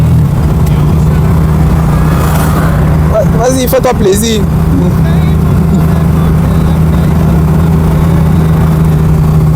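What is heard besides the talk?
1965 Mercedes S-Class engine while driving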